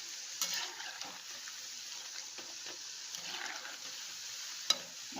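Baby corn pieces fry in hot oil for a kids' evening snack, giving a soft, steady sizzle and crackle with a few stirring clinks, fairly faint and close.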